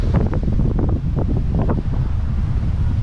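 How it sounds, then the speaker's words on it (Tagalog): Strong wind roars steadily into the microphone, a loud, continuous low buffeting rumble with no voices. "Oh, lakas ng hangin."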